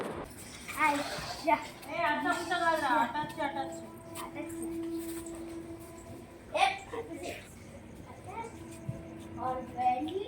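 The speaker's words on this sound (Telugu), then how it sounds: "పక్కన కుక్క అయితే అరుస్తుందనమాట" A dog barks and yelps close by outside a house, short intermittent calls mixed in with children playing and people talking.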